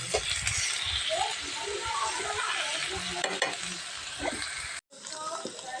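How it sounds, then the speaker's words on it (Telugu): Washed pork meat frying in a pan, a loud dense sizzle with crackles and stirring scrapes, briefly cut off before resuming more quietly. "అదేనండి ఫ్రై అయినట్టుంది"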